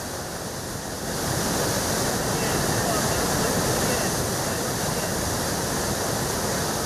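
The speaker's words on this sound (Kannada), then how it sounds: "ಹಾಲ್ ನೊರೆಯಂತೆ ಡ್ಯಾಂನಿಂದ ಹೊರಬರ್ತಾ ಇರುವಂತಹ ನೀರು." Water released from the KRS dam gates gushes into the Cauvery river, a loud, dense, continuous roar of rushing water that swells after the first second and holds steady.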